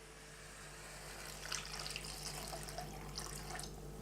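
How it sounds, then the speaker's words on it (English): Water is poured from a container into a pot of lasagne sauce, a soft splashing trickle with faint bursts over a low kitchen hum. "Now we'll add 500 mils of water."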